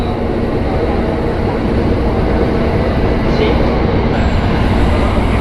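A KRL commuter train rolls into Buaran station with a loud, steady rumble and roar, heard from on board.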